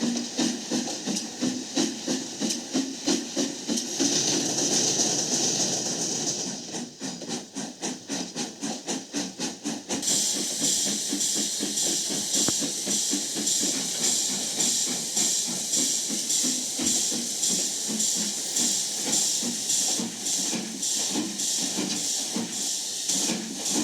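Steam train pulling into a station, a steady loud hiss of steam over a fast rhythmic chuffing that shifts in tone partway through.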